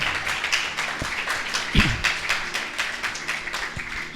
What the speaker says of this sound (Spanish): Alábale con fuerte palmas, Señor